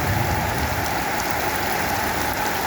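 Steady, dense rain pours down at night on the grounds of a Thai Buddhist temple, an even hiss of drops striking surfaces with no pauses and no voices.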